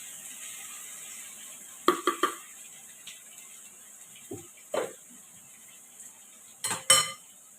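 A spoon knocks and scrapes against a metal cooking pan as spice paste goes in for a Bengali katla fish kalia, several distinct clinks in short clusters, close and clear, with a faint steady hiss beneath and no talking.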